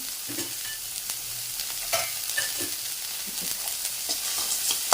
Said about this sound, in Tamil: இப்போ இதை நல்லா வதங்கிட்டு உப்பு போட்டுடுறேன்